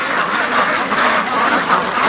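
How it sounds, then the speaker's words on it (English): Ducks quack repeatedly at a creek where free-range ducks are kept, a steady chatter of calls close by without a break. "I love when I'm editing and I listen to the ducks"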